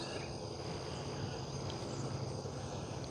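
Honey bees swarm thickly in the top honey super of a backyard hive, making a steady, dense buzzing drone that holds even and close throughout, with no talk over it.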